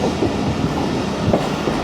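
A train in Pakistan passes through Okara station. Loud, continuous rumbling and rattling fills the entire moment at close range.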